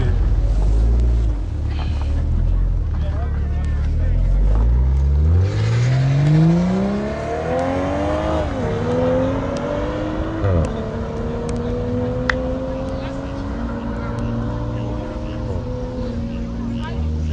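Supercar engine revving at the Afienya airstrip, a loud sustained roar with rising and falling pitch sweeps as it accelerates and shifts, with voices talking nearby.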